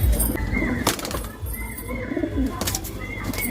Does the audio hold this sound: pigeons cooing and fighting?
yes